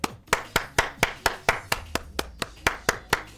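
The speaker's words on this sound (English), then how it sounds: "You make a louder clap like that." Hand claps ring out one after another in a steady series of about fourteen sharp, close slaps at a brisk even rhythm, with no voices.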